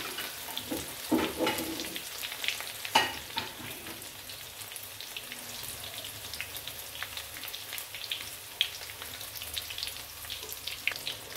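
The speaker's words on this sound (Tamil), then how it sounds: "இப்போ பார்த்தீங்கன்னா பொரிஞ்சின்னு இருக்கு நெத்தலி மீன் வடை" Anchovy fish vada deep-frying in hot oil gives a continuous crackling sizzle with scattered pops and bubbling, close and moderately loud, with a brief spoon stir early on and no speech.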